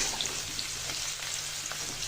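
Chopped onion frying in oil for chicken roast, a soft, steady sizzle with light crackles, fairly quiet and close, with no voices.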